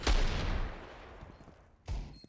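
Two heavy Desert Eagle pistol shots in a professional Counter-Strike match on the Mirage map, each a loud, booming crack with a long fading tail, spaced almost two seconds apart.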